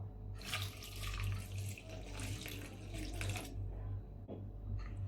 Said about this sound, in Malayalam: മിക്സിയുടെ ജാർ കഴുകി ആ വെള്ളം കൂടെ ചേർത്ത് കൊടുക്കാം.